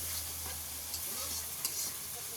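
Ginger and spice mix frying in oil in a shop kitchen: a soft, steady sizzle with light stirring scrapes over a low constant hum, fairly quiet and close.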